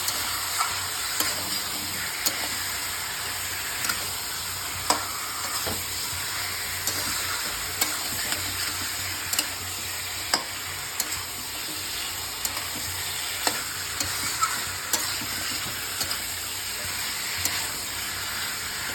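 Chicken being stirred and fried in a pan, a steady sizzle and hiss throughout with regular light scraping taps of the stirring utensil, close and moderately quiet.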